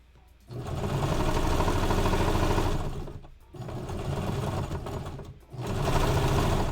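A sewing machine stitches a mustard-coloured suit in three steady bursts of running, each a dense mechanical whirr with brief pauses between, close and loud with no talking.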